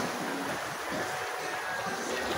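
Large sea waves in strong wind: continuous rushing surf and sea noise, broad and steady, with wind mixed in and no clear breaks.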